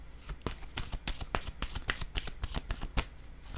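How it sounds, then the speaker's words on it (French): Oracle cards shuffled and drawn by hand during a French-language card reading, a dense run of crisp, rapid riffling flicks and slaps close up, with no talking over them. "je ressens le besoin de piger une carte ici"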